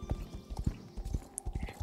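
Horse hooves clip-clopping in the game Star Stable: a quick, steady run of soft hoofbeats close by over quiet forest ambience, with a brief high whinny-like tone partway through.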